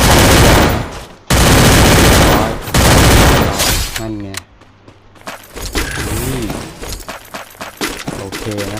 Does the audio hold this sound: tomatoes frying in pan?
no